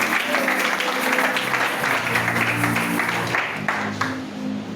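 A church congregation applauds the Lord together, a steady wash of clapping filling the whole moment with some voices mixed in, tapering slightly near the end.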